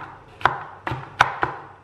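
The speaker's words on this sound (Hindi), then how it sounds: "ये आप देख सकते हैं ये अभी मैंने प्याज काटे, मैंने इसको छोटे छोटे छोटे करने होते हैं" A knife chopping onions finely on a board, four crisp, close, distinct strikes at an uneven pace with quiet gaps between them.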